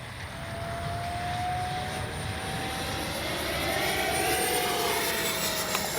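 A Freewing 70mm F9F Panther radio-controlled jet flies past with a steady, continuous electric ducted-fan whine, rising slightly as it nears, holding at moderate loudness throughout with no talk.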